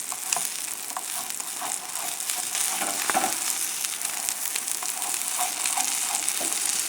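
A sardine and kalamata olive omelet fries in a worn non-stick pan, giving a continuous crackling sizzle with small pops and scrapes as it is folded over.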